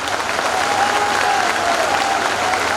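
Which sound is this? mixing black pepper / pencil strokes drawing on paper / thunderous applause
thunderous applause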